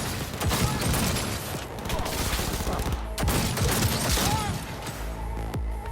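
Rapid gunfire bursts from a first-person shooter set in Cyberpunk 2077 on PS4 Slim, loud and continuous fusillades with sharp cracks, under occasional voices talking.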